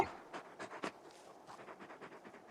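The large dog Torgal in Final Fantasy 16 pants softly in quick, breathy puffs, close and quiet, with a short rhythmic run of breaths followed by fainter panting.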